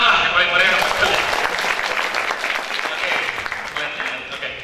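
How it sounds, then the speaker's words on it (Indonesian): Seminar audience applauding in a hall, a dense sustained clatter of many clapping hands that stays fairly loud throughout, with some voices mixed in. "Tepuk tangan lah yang paling meriah."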